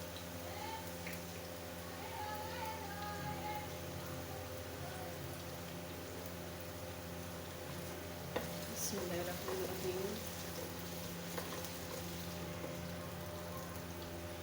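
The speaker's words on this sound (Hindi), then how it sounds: "अब हम इसे भून लेंगे। प्याज को हमने गोल्डन कर लेना है।" Onions frying in a pan for radish paratha give a continuous soft sizzle with faint crackles and occasional stirring scrapes, close but quiet, with brief bits of speech over it.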